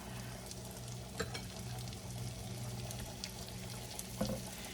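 Salisbury steak patties sizzle steadily in a pan, a soft continuous frying hiss with occasional brief clicks and pops, heard alone without talk.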